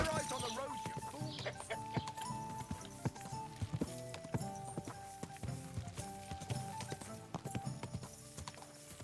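Horse hooves clip-clop steadily through a medieval town in Kingdom Come: Deliverance 2, a brisk repeated clatter under game music and ambient bustle, with a short whinny and faint talk mixed in.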